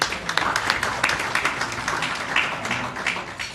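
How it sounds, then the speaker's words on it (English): Audience applause at a gala dinner for an Arab community media organisation, a dense, steady patter of many hands clapping for a few seconds, heard from within the room. "we also give them a round of applause"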